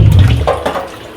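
Water is poured over chenchi shak greens in a basket to wash them, a brief, loud splash and gush that fades within about a second.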